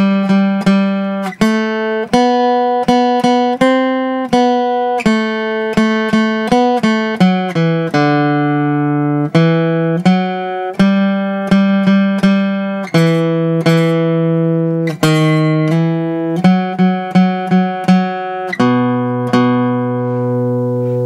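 A guitar plays Greensleeves in fiddle tune style with alternate picking, a clear run of plucked notes with small slides, up close, loud and unaccompanied, with no talking.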